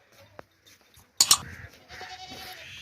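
A dairy goat gives a single short, loud, nasal bleat close by. A brief knock and quiet shuffling come before it, and a softer trailing murmur follows.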